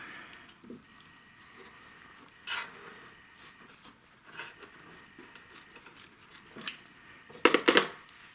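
Scissors snipping through quilt fabric at a sewing machine embroidery hoop, sparse faint clicks and cuts scattered across the stretch, ending in a quick louder burst of close snips.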